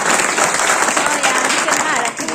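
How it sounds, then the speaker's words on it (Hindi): A loud, sustained wave of clapping fills the hall as an audience welcomes a speaker during a talk, with voices mixed in throughout. "जोरदार ताली के साथ बाबू को स्वागत करें।"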